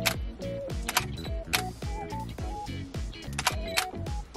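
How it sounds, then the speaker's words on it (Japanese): A Canon EOS 40D DSLR camera runs live-view autofocus, producing a rapid series of close mechanical clicks, shutter clacks and brief whirring motor sounds in an irregular rhythm, with no talking. "これ一応オートフォーカスもできるということなんですけども"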